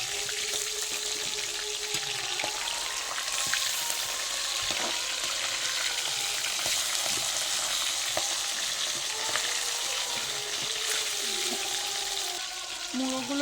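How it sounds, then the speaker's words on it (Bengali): Fish heads frying in hot oil in a home kitchen, a continuous dense sizzle and crackle with occasional stirring scrapes and pops, steady and close throughout with no talking. "মুড়োগুলো একটু কড়া করে ভেজে নিতে হবে"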